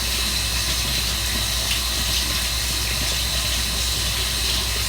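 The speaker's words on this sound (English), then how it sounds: "The top has little holes in it, so I'm going to rinse this out." Tap water runs steadily over the perforated plastic top of a coffee container being rinsed at a sink, a constant close hiss without pauses.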